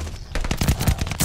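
Video game gunfire rattles in quick automatic bursts, loud and near, with a tight run of shots after a brief lull.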